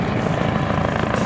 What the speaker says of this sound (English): It's a helicopter up there too.